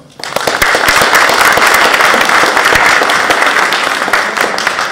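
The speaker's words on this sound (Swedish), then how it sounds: "En applåd och en värva." A conference audience at an experience-exchange event in Huddinge gives the speakers a loud, dense round of applause that starts abruptly and holds steady, close and full throughout.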